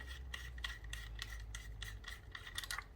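A Bafang mid-drive ebike crank part being unscrewed, giving repeated short rasping, rubbing scrapes in an uneven rhythm, close and fairly quiet over a steady low hum.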